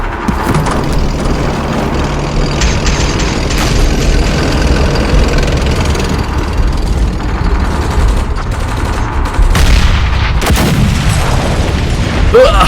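A tank in a Hindi-dubbed Hollywood war movie gives a loud, continuous low engine rumble mixed with heavy booms and bursts like gunfire, all close and dense throughout.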